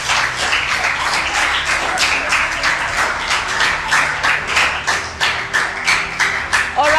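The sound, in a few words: audience clapping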